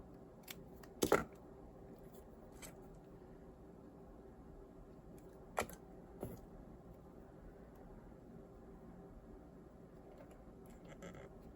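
Scissors snip a paper quilling strip, making a few quiet, sharp clicks spread out over a faint, near-silent background.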